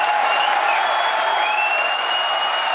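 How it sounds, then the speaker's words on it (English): A crowd roars with sustained cheering and applause after a Falcon Heavy booster landing, a dense, loud, continuous wash of clapping and whistles. "hear our crowd going wild"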